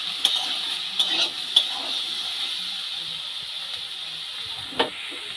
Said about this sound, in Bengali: হলুদ লবণ দিয়ে ভালো করে আলু বেগুনটাকে ভেজে নিচ্ছি।